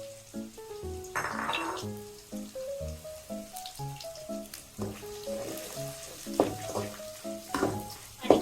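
Chopped ginger and green chilli go into hot oil with cumin seeds, bay leaf and onion, giving a steady close sizzle with a few spoon stirs and scrapes, and no talk.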